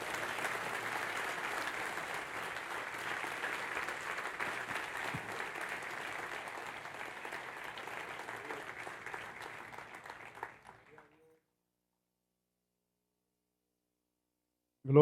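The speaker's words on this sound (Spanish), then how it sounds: "Vamos a dar un aplauso al Señor por estas vidas." A church congregation at a Baptist service applauds in a dense, steady round of clapping that gradually thins out and stops after about ten seconds, followed by near silence.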